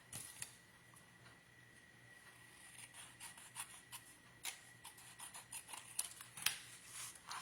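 Scrapbook paper being trimmed by eye for a winter pocket insert, heard as faint, scattered snips and papery rustles that grow a little busier toward the end, with no voices.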